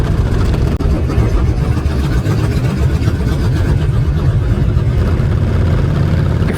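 Triumph Rocket 3 R motorcycle idling near a seafront, a loud, steady, deep engine rumble that continues unbroken throughout.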